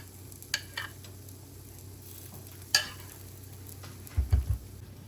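Food frying in canola oil in a pan, a steady soft sizzle throughout with a few sharp clinks and scrapes and a low rumble near the end, close by with no talking.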